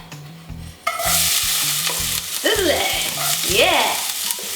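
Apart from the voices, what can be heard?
sautéing onions and garlic in olive oil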